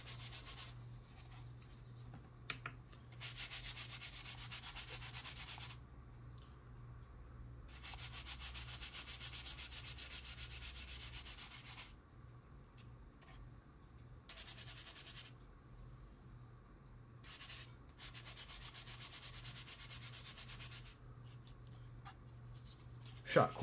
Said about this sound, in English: Then we'll get it sanded. And I believe this is 320 grit.